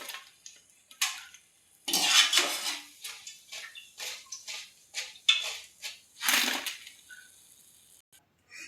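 Fried batata vada being lifted out of hot oil into a dish, with clinks and scrapes of utensils against cookware in a run of intermittent close knocks and rattles, no talking.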